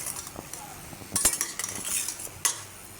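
Taro corms being stirred in a pot of boiling water with a metal spoon, giving several soft clinks and scrapes against the pot at a close distance, with no talking.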